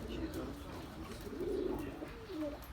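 Low, soft cooing from about 13 pigeons repeating a few times in an enclosed space, faint under a dull background hum.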